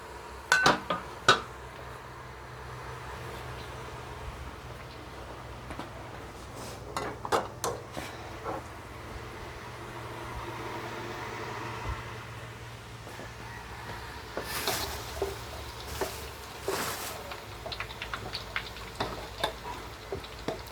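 Sun-dried pork frying in a pan over medium heat, a soft steady sizzle under scattered clinks and scrapes of a utensil against the pan, with louder clatter bursts toward the end.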